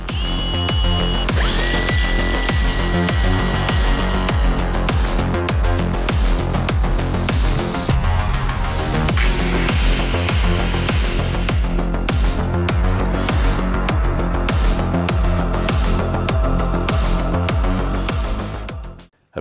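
A power drill driving an improvised lathe whines steadily and loudly, spinning a workpiece as a tool scrapes against it, continuous for the whole stretch before stopping abruptly.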